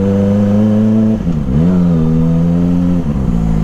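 Kawasaki ZX25R motorcycle engine running at low RPM, a steady close idle-like drone with a brief dip and a rise in pitch partway through, then settling back to an even hum.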